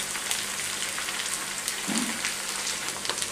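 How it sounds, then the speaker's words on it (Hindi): A soft, steady sizzle and crackle of ridge gourd frying in hot oil, with a faint low bubble partway through. "तेल हमारा गर्म हो गया गाइस, तो ये टिंडे डाल देंगे इसमें।"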